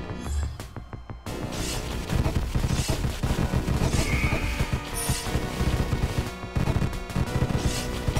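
Bullet gunfire in the shooter game Deathstate: rapid, dense bursts of shots that rattle on almost without a break, loud and close after a brief quiet start.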